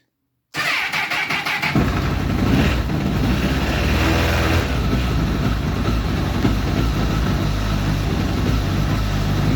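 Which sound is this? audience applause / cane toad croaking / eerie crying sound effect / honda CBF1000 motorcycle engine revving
honda CBF1000 motorcycle engine revving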